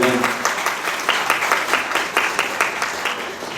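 Wedding guests applaud together at a ceremony: steady, dense clapping from a close crowd, fairly loud and continuous with no talk over it.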